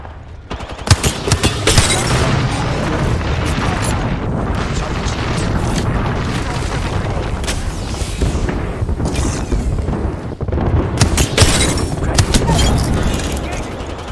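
Grenade explosions and rapid gunfire in the battle royale game Apex Legends, a dense, loud barrage of booms and bursts of shots that rolls on almost without pause, with a voice speaking over it.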